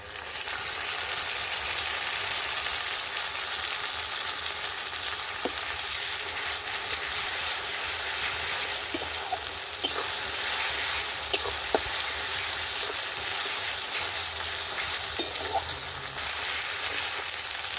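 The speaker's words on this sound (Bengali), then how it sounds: "আমি ভালো করে ভেজে নেব আদা কাঁচা লঙ্কা আর রসুন বাটা" Ginger, green chili and garlic paste fry in hot oil with a steady, loud sizzle throughout, broken by occasional clicks and scrapes of stirring.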